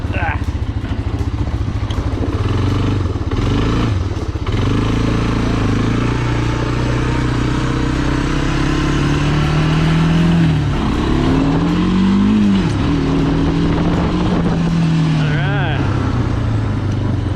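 The engine of a 1985 Honda FourTrax 250 ATV runs nearby with a steady, buzzy drone and a brief rise and fall in revs midway, while people talk over it.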